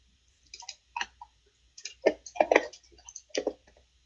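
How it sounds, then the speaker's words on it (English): Computer keyboard typing while entering measurements in Rhino 3D modeling software, heard as short bursts of close, crisp key clicks with gaps between them. "you see me typing this"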